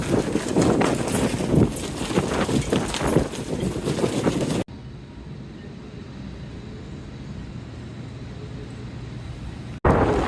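Strong gusty wind from Hurricane Milton buffets the microphone for several seconds, then cuts to a quieter, steadier outdoor rush of air before a brief loud burst returns.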